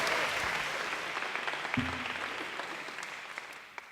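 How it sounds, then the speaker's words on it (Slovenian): Concert audience applauding after a big band performance, a broad, steady wash of clapping that gradually thins and fades toward the end, heard at some distance. "Iskrene čestitke in velik aplavz."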